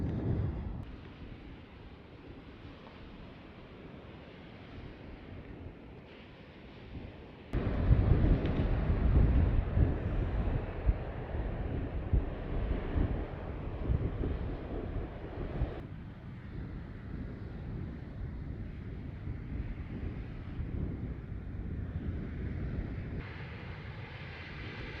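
Strong arctic wind buffets an exposed roadside spot beside a parked van, a constant rushing roar against the microphone that surges louder after about seven seconds and keeps gusting unevenly.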